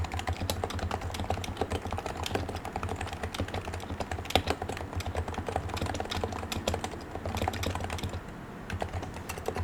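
Fast, steady clatter of typing on a computer keyboard, picked up close on a FiFine T732 USB microphone, with a dense run of key clicks and a low background hum.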